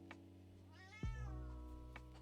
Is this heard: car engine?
no